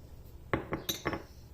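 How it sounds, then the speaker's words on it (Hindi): A metal pan set down on a stove burner before oil is added for palak paneer gives a few light clanks and clinks in quick succession, close and fairly quiet, with no talk. "फ्लेम पर पैन रखना है और इसमें 2 टेबलस्पून के करीब ऑयल डाल देना है"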